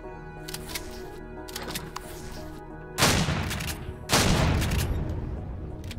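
A shotgun in the sci-fi survival game Empyrion Galactic Survival fires two loud, booming blasts about a second apart, each trailing off. Quieter mechanical clicks and rattles come before them.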